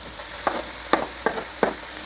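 Vegetables fry in a pan with a little oil for fried rice, a steady soft sizzle broken by four quick scraping stir strokes, close and alone.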